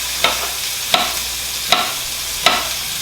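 Tofu fries in a pan, a loud steady sizzle punctuated by four evenly spaced clacks of a utensil stirring against the pan, close by and without voices.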